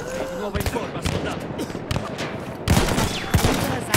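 Gunfire in the World War I shooter Battlefield 1, with dense, loud bursts of shots and scattered single cracks in a forest battle, heard close. Someone speaks German over part of it.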